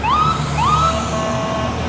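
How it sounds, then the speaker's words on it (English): Emergency vehicle sirens wail with rising, repeating sweeps over a steady rumble of traffic, loud and fairly near, in Detroit. "Lights and sirens blaring,"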